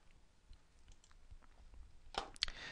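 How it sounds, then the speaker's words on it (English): Keys on a computer keyboard are typed as a search, a quick cluster of close, crisp clicks near the end after faint, scattered taps in a very quiet room. "Let's type in pocket bike."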